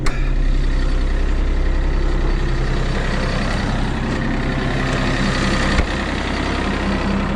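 A tractor engine idles loud and close on a snowy driveway, a steady low rumbling drone with a brief clunk near the end and no one talking.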